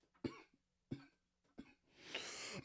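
Three short, close coughs in quick succession during a podcast conversation, followed by a longer, rougher breathy burst as the throat clears.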